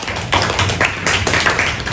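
A class of secondary school students claps for a classmate, a quick run of loud, close hand claps in uneven bursts lasting a couple of seconds, with no talking over it.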